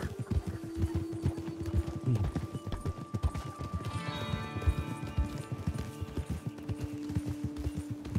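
Horse hooves clip-clop continuously in Red Dead Redemption 2, a quick rhythmic trot close by, with tonal game sounds and a faint whinny-like tone over the beat.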